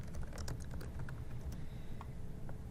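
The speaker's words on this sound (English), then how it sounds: "helps if I am actually typing" Someone typing on a computer keyboard, producing a run of light, irregular key clicks that are fairly soft and close, with no talking.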